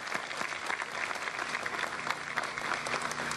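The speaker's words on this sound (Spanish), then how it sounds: "quiero que les demos un fuerte aplauso a todos ellos también" Crowd applauding at an outdoor public event for police and workers at a graffiti removal launch, a steady, fairly distant wash of clapping with no speech.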